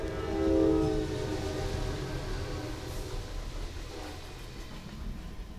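A freight train rock hauler rolls past, a loud horn blast near the start giving way to a continuous rumble and rattle of wagons.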